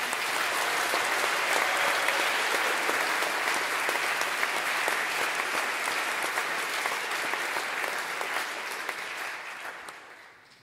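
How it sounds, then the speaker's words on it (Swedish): Warm audience applause at the closing concert of Nordic Soundscapes 2023, a dense steady clapping that fills the hall for about ten seconds before fading out at the end. "ge dem en varm applåd"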